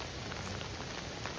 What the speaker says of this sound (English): this hail is not really fucking around anymore